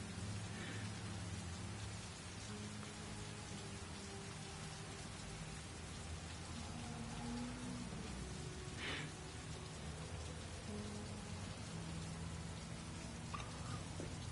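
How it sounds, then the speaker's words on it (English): Steady heavy rain in the video game Heavy Rain pours as a dense, unbroken hiss throughout, with faint low rumbles and a few brief tones under it; no talking. "I think the rain is supposed to get like 6 inches."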